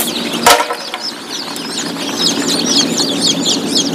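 Local chicks and chickens at a poultry farm incubator in Assam peep and cluck nearby, a dense chatter of high chirps after a sharp knock near the start, loud and continuous.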